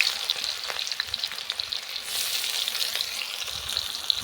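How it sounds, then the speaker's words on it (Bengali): Chopped onion fried with cinnamon, cloves and cardamom in a pan for mutton curry, a bright hissing sizzle close by with soft stirring scrapes, steady and unbroken, without speech. "এইভাবে আমি নাড়বো কিছুক্ষণ, নেড়ে আমি লাল লাল করে পেঁয়াজগুলো ভেজে নেব"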